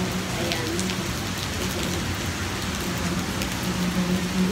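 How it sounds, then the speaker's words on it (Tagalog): Heavy rain pours steadily near the Singapore Flyer at night, a dense, loud, unbroken hiss of drops hitting pavement and shelter surfaces, with faint traffic underneath and no one speaking. "Lapas, lapas talaga yung ulan."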